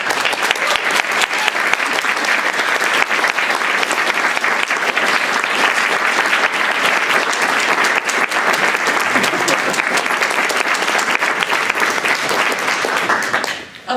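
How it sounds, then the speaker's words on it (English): A conference audience gives sustained, loud applause, a thick continuous patter of many hands clapping for about fourteen seconds before cutting off abruptly. "by giving them especially a big applause"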